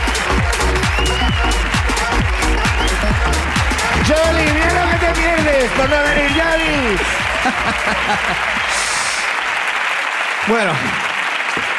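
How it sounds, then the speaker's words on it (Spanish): Audience applause fills a Spanish comedy podcast event, loud and sustained throughout, with a woman calling out over it and voices talking and laughing through the clapping. "¡Aplauso para Marta!"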